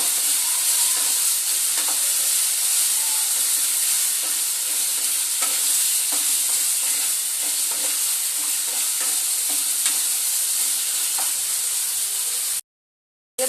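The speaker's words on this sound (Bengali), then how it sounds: "এবার ধুয়ে রাখা চিকেনগুলো কিন্তু এবার এর মধ্যে দিয়ে দেবো দিয়ে চিকেনটা খুব সুন্দরভাবে কষিয়ে নেবো" Washed chicken pieces frying in hot oil for a chicken khichuri, stirred steadily with a spatula, giving a loud continuous sizzle with scraping strokes throughout, then a sudden drop to silence near the end.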